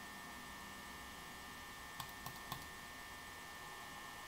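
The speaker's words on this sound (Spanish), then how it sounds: "Ese ventilador me tiene nervioso cuando ese sonido" The office fan in the Five Nights at Freddy's video game, heard as a steady, faint mechanical hum with broadband whirring, broken only by three quick soft clicks midway; no voices.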